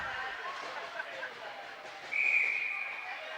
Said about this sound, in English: Going to get a whistle.